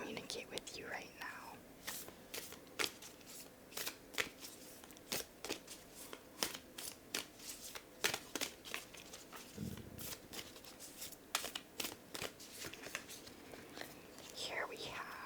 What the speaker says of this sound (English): I will now draw a Moonology card to see what the moon wants to communicate with you right now.